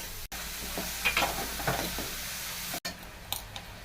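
A spoon stirs food sizzling in a pan with oil and turmeric, scraping in quick strokes over a steady background frying hiss.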